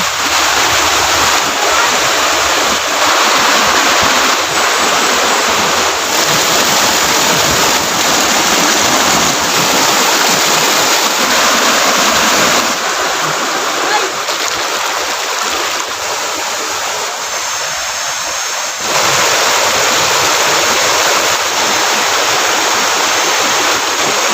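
The waterfall at Sitio Marahan, Davao City, pours as a loud, continuous rushing roar that barely changes from start to finish.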